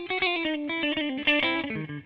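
A Gretsch G6122 Country Gentleman electric guitar plays a short phrase of clean, rounded notes with the high end rolled off by the tone switch, sounding warm and muted.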